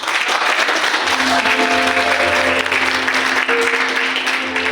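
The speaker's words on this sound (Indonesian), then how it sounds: "Tepuk tangan untuk mereka." An audience at a competition results announcement gives sustained, dense applause, loud and even throughout, with a faint tone or murmur underneath.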